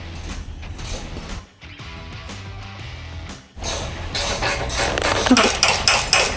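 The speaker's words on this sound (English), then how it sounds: "I have a 13mm ratchet spanner, and I will be using also a 13mm socket." A 13mm ratchet spanner tightens rock slider bolts on a Toyota Prado 150, producing close metallic ratcheting clicks and clanks in bursts, the final stretch louder and busier.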